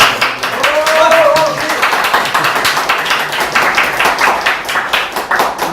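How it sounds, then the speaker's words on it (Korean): Supportive applause from a talk show audience, a steady patter of many hands clapping at a moderate level that fills the whole stretch, with a voice briefly audible near the start. "응원의 박수가 나오고 있는데"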